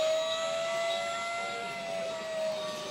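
A Japanese fire truck siren heard inside a shop: a steady, sustained wailing tone with high harmonics, moderately faint and continuous throughout, with no talk.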